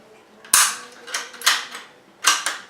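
A single-shot .22LR bolt-action rifle has its bolt worked by hand, a few sharp close metallic clacks and slides spaced irregularly over a quiet background.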